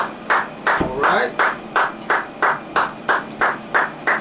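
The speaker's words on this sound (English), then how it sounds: "I want to give a hand clap as she come down" Audience clapping in a steady, even rhythm to welcome a school superintendent onstage, about twelve claps close and loud, with no talk.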